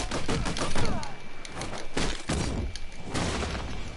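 Dense video game gunfire rattles in rapid bursts with heavy thuds and booms, loud and continuous across the whole stretch.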